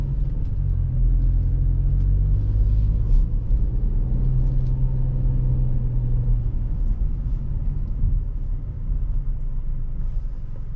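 Hyundai Bayon 1.0 T-GDI with DCT gearbox driving through Zagreb at night, heard from inside the cabin as a steady, loud low engine and road rumble with no talking.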